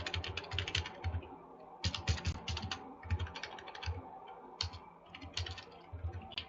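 Quick bursts of keystrokes on a computer keyboard while coding JavaScript, uneven rhythmic clusters of clicks with brief pauses, close and fairly soft, with no talk.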